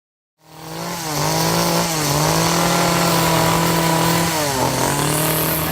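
A chainsaw starts up and runs loud and steady at close range at a chainsaw art festival, its engine pitch dipping and rising as it bites into wood while carving.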